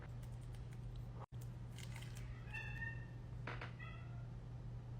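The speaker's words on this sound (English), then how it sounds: "My cats are going crazy." Pet cats give a few drawn-out meows close by. A steady low hum runs under the calls, and one brief dropout cuts it off near the start.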